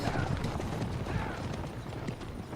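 Horse hooves from Kingdom Come: Deliverance II clop in a steady, rumbling gait over a dense ambient bed, moderately loud and continuous with no clear talk.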